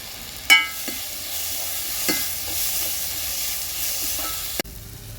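Onion sautéing with a little turmeric in a pan for a drumstick fry makes a soft, steady sizzle and hiss, broken by a few sharp scrapes and clicks of a utensil, with a sudden knock at the end.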